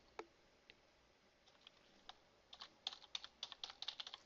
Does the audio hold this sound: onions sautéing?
no